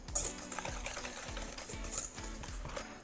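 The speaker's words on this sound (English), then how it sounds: "we're going to take a bowl of egg yolks, add some sugar to it, and we're gonna whisk it until it is light and ribbony" Egg yolks and sugar whisked by hand in a bowl, a quick steady rhythmic clicking and tapping of the whisk against the bowl, close and continuous with no talk.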